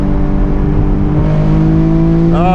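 A 2020 Camaro RS V6 1LE engine revs under acceleration, a loud, close, rising drone heard alone with no talk, ending in a quick pitch sweep as it shifts.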